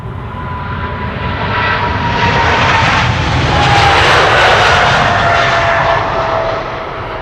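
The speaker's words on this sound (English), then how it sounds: "This is KLM flight 735 to Willemstad, Curaçao. It is a 777-300" KLM Boeing 777-300 airliner departing Amsterdam Schiphol, its engines roaring loud and broad as it passes, swelling to a peak midway and easing slightly toward the end.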